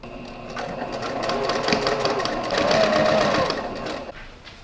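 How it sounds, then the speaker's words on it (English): A sewing machine back stitching a fabric tote bag runs steadily and close for about four seconds, its motor hum and rapid needle clatter continuous, then stopping abruptly. "we are going to do some serious back stitching here when we start"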